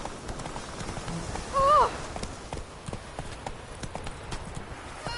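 Roach, a horse in The Witcher 3, moves at a gallop with a quick, steady patter of hooves on the ground, while a short vocal exclamation cuts in briefly partway through.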